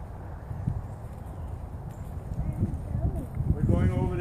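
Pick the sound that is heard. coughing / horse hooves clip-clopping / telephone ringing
horse hooves clip-clopping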